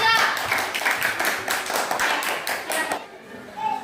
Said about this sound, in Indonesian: berikan aplaus kepada kelompok 3